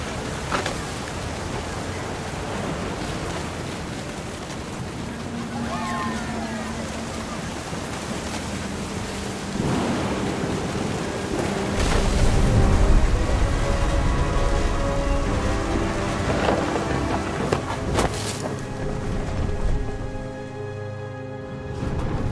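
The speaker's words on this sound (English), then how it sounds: "Thunder sounded much too close and full of angry power." Rain and rumbling thunder in the video game What Remains of Edith Finch, a constant broad wash of rainfall and wind with low thunder swelling louder in the middle, with faint voice-like tones surfacing briefly.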